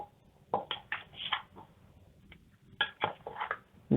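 A spoon stirs spicy chicken wing sauce with vinegar in a bowl, giving sharp clinks and scrapes against the bowl in two short bursts with a pause between them, close and fairly faint, no voices.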